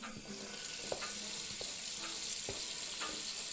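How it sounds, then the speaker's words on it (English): Running water from a kitchen tap splashes steadily into a sink as hands are washed, a soft continuous hiss broken by a few light knocks and clinks. "Gotta wash my hands."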